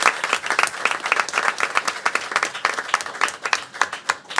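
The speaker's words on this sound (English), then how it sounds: "So could we give them a round of applause?" Dense applause from an audience at a board meeting, honouring young district champions; steady, fast clapping from many hands close by, sustained and even throughout.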